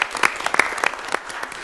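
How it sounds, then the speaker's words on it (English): Brief burst of audience clapping at a county board of commissioners meeting, honoring county DSS staff, with scattered claps of moderate loudness. "We'll all applaud you."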